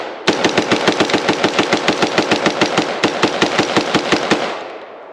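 An IWI Carmel rifle firing a rapid string of about twenty-five evenly spaced shots outdoors, each report loud and sharp with a short ringing tail, the burst ending cleanly.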